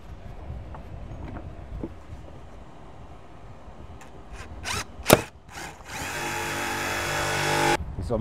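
Power drill driving self-tapping screws into a deck: faint background rumble at first, then a few sharp knocks and a loud, steady whirring drill run near the end, with no talking.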